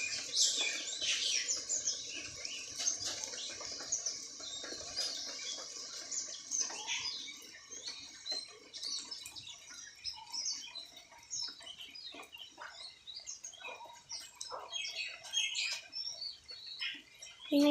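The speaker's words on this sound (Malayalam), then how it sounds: "പക്ഷി അവിടെ ഇരുന്ന് കാര്യമായിട്ട് എന്തൊക്കെയോ" A bird calls outdoors as rain approaches, with repeated bright chirps and tweets, fairly faint and somewhat distant, over a quiet natural background.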